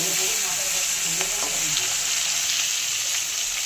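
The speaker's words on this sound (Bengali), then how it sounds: "কয়েকটা চিংড়ি মাছ আছে, ভেজে তরকারিতে দিয়ে দেব" Prawns fry in hot oil in a pan, giving a loud, dense, continuous sizzle with a few faint utensil taps.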